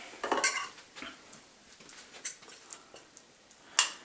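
A utensil stirs shisha tobacco with molasses and glycerin in a bowl, giving sparse, faint clinks and scrapes in irregular bursts with quiet gaps between them.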